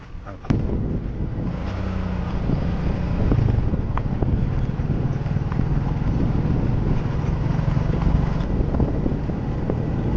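Steady engine drone and rushing wind noise from a motorcycle ride near Puzhal Lake, Chennai, continuous and close, with no pauses.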